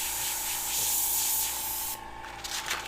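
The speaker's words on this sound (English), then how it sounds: "You can spray a couple times because you're just trying to make the illusion of hair." Airbrush spraying paint in freehand strokes on skull and hair artwork, a steady close hiss that swells and fades, then breaks into shorter bursts near the end.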